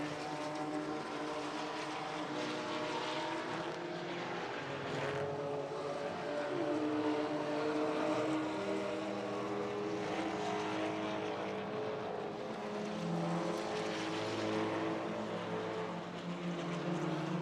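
BMW M3 race cars circuit racing, a blend of engine drones rising and falling as the cars pass, heard at a distance as a continuous layered roar.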